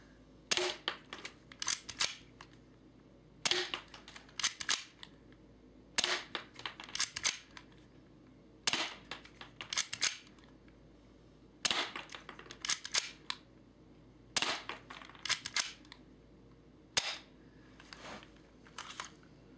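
An M945 spring-powered airsoft handgun is fired repeatedly, sharp close snaps arriving in quick clusters of two to four separated by short pauses, with nobody speaking.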